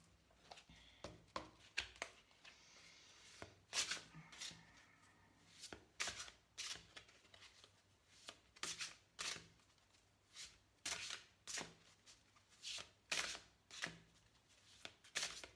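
Animal oracle cards are shuffled again and again in quick papery riffles, each burst short and crisp, with no voices at close range in a quiet room.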